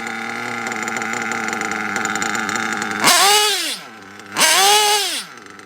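A nitro engine idling after a carburetor adjustment during a box tune, a steady high buzzing drone that twice swells into louder revving blips before settling back, close and loud with no talk.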